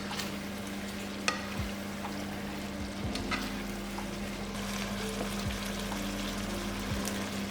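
Chicken menudo, a Filipino dish, cooks in a pan with a steady low sizzle and occasional stirring scrapes and clicks, quiet and continuous with no talking.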